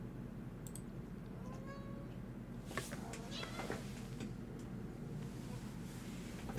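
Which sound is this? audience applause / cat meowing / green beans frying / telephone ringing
cat meowing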